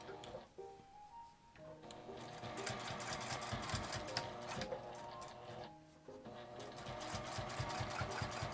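A sewing machine stitches a fabric coin purse made from scraps, running in close, fast mechanical bursts with brief pauses between runs and no talk.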